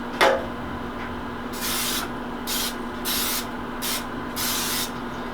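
Short bursts of cooking spray hit a small pan, four or five quick hissing puffs separated by pauses, close and clear over a steady low hum.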